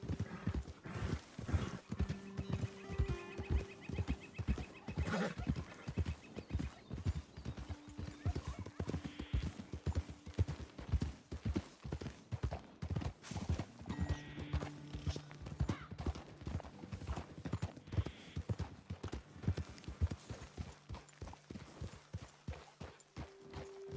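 Horses walking in Red Dead Redemption 2, with steady clip-clop hoofbeats running throughout at a close, even pace, alongside game music tones and an occasional whinny.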